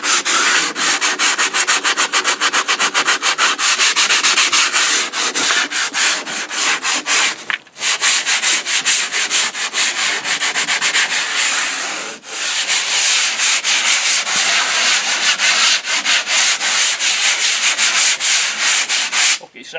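Continuous scratchy sanding against a wall, loud and close, with steady back-and-forth rubbing strokes and two brief pauses.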